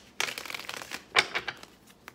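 Tarot cards being shuffled in soft, papery riffles and slides, with a louder flurry near the middle, close and quiet with no talking.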